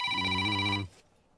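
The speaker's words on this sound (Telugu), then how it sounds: "రాజా చిట్టి ఫోన్ చేసిందిరా." A telephone rings with a bright, steady electronic ring lasting under a second, then cuts off, leaving a quiet room.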